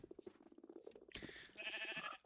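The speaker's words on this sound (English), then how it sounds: "That right there is a naturally generated pink sheep." Pink sheep bleating in Minecraft, a short game-animal call that rises over low rhythmic background sounds, followed by brighter, louder bleats near the end.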